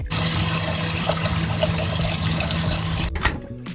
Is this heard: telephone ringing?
no